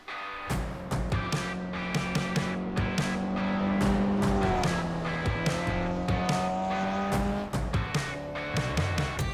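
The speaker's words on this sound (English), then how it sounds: "today we're going to be driving a Mazda mx5 in Assetto Corsa" Mazda MX-5 engine in the Assetto Corsa racing game revs steadily and rises as it shifts through gears, with tire squeal layered in and sharp transient clicks throughout, loud and continuous.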